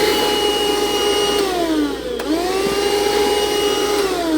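Vacuum cleaner running during ant removal, a loud steady motor whine with a brief dip in pitch near the middle as suction shifts, then recovering to its constant drone, alone without talk.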